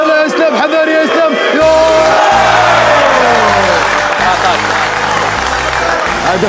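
A crowd roars and cheers at an esports football gaming event, loud and sustained, with chanting voices and a low rhythmic pulse underneath.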